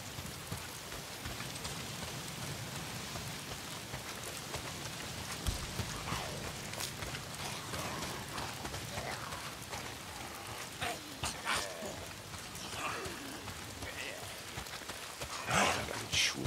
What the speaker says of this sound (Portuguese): Se não são os frenéticos, é essa merda de chuva